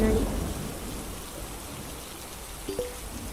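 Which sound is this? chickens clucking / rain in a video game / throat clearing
rain in a video game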